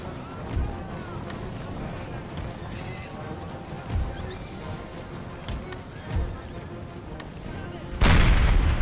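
Cannon and musket volleys from a large Ottoman versus French-Spanish coalition battle in Empire: Total War (Empire 2 mod), a dense din of booming shots and clatter with periodic heavier thumps and a loud burst near the end.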